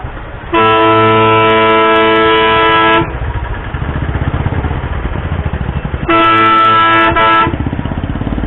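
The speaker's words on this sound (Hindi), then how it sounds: "हॉर्न भी इस तरह कान के बिल्कुल बराबर में ही मार रहा" A loud, blaring vehicle horn sounds very close in two long blasts over rumbling engine and traffic noise, in a crowded bus station area in Meerut.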